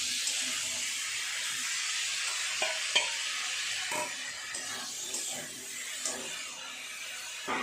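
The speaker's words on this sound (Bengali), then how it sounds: "এবার আমি এর মধ্যে আলু আর পটল আগে থেকে যেটা ভেজে রেখেছি সেটা দিয়ে দেবো, দিয়ে ভালো করে কষিয়ে নিই।" Fried potatoes and pointed gourd are stir-fried in spice paste for a vegetable dalna, with a continuous hiss of frying and scattered clinks and scrapes of a spoon against the pan.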